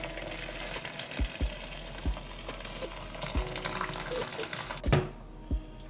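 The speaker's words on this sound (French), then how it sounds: "je vais venir mettre mon eau bouillante" Boiling water is poured onto hibiscus leaves in a container, giving a steady hissing splash with a few dull knocks, then thinning out toward the end.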